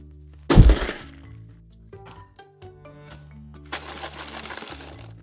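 A small box dropped onto a hard floor lands with one loud close thud, followed by faint scattered rattles and clinks from loose contents inside, then a soft rustling shuffle.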